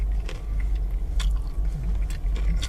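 Someone munches trail mix as a snack at a fuel stop, steady chewing and crunching close up over a constant low engine or road rumble, with no talk.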